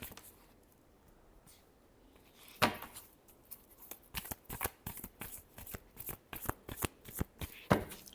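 A deck of tarot cards is shuffled by hand, starting quietly and then turning into a run of crisp, rapid riffling snaps and slaps, close and distinct with no speech.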